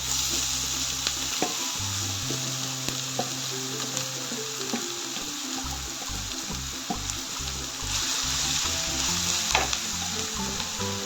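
Chopped banana flower tipped into a hot pan for Kerala-style thoran, followed by steady sizzling and stirring that runs loud and continuous throughout, with no talking.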